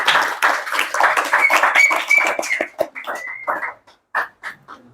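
A crowd applauds at a village head (klebun) candidate debate, with bursts of clapping, some whoops and cheering, fading into scattered claps toward the end.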